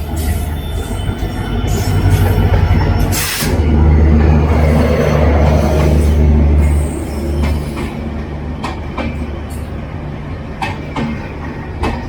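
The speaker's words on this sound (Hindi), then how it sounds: "तो अभी ये पास कर रही है नॉर्थ ईस्ट एक्सप्रेस।" North East Express train on a diesel, single-track line in Assam passing close by, a loud steady rumble of wheels and carriages with squeals and rhythmic clacks that fade toward the end.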